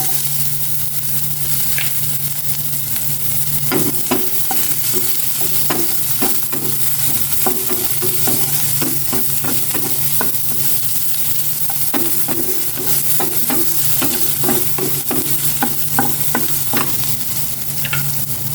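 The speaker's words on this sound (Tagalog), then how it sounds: "Lagyan ko na ng sibuyas" Onions sizzle loudly in a pan of oil for a tilapia sauce while a utensil stirs and scrapes them in quick, repeated strokes over a constant frying hiss.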